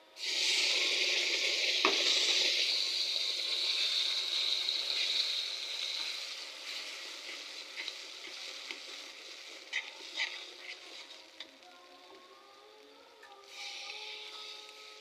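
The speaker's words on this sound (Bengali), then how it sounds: "আমি এখানে এড করছি আদা, রসুন, পেঁয়াজ বা কাঁচামরিচ মিক্সি করেছি, সেটা এখন ঢেলে দিচ্ছি।" A ginger, garlic, onion and green chili paste poured into browned frying onions in a pan, a loud burst of sizzling that gradually calms to a softer crackle with scattered stirring taps.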